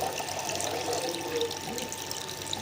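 Water runs steadily from a tap into a basin, a constant splashing hiss close by, with no voices.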